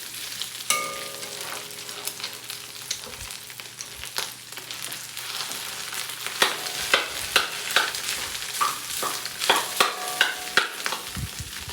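Rice being stir-fried in a hot pan for spicy garlic fried rice with egg, giving a steady sizzle with repeated scraping and tossing strokes that grow more frequent toward the end, heard alone without talk.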